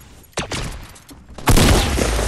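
Impulse grenade blast in Fortnite Battle Royale: an abrupt loud burst near the start, a rumbling tail, then a second, bigger broadband whoosh that keeps going to the end.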